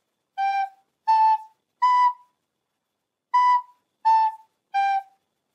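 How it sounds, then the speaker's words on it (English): Recorder playing the simple tune Gab Bag: two groups of three short breathy notes, B A G, evenly spaced with a pause between the groups, solo and without talk. "So Gab Bag is a pretty simple song"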